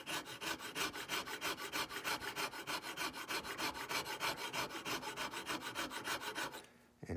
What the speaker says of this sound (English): I'll do the last little bit with sandpaper